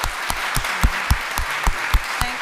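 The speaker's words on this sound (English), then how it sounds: "So let's give everybody a round of applause." Small-group clapping after a panel discussion on health misinformation and journalism, heard as sharp, evenly spaced claps in a quick steady rhythm, close and fairly loud, with no speech.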